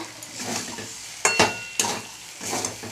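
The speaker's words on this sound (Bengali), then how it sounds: "নেড়ে নেড়ে ঝরঝরে করি" Semolina and chicken are stirred in a frying pan, giving a low sizzle with two sharp metallic spatula knocks and scraping strokes nearby.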